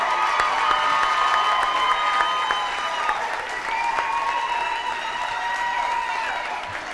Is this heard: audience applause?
yes